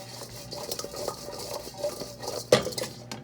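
A utensil stirs and scrapes potatoes through melted ghee in a pan, with light clinks and clatters against the metal and one sharper knock.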